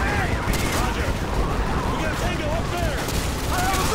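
Dense battle noise from Modern Warfare 2, with continuous overlapping gunfire and bursts from several weapons throughout, and shouting voices mixed in.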